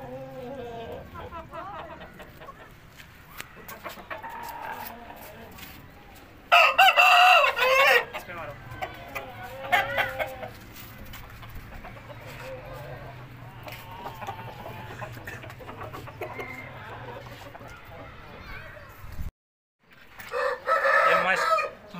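Thai and Pakistani breed chickens in a backyard coop, with a rooster crowing loudly twice, once early and once near the end, over soft clucking and scattered movement while someone talks throughout.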